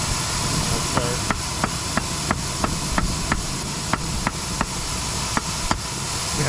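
Steel from an old metal file struck repeatedly on an anvil while being forged into a fire starter, a steady series of sharp metallic hits roughly every third of a second over a loud, constant forge roar.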